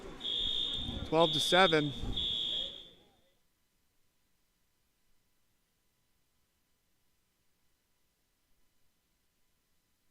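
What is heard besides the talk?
school fire alarm going off in gym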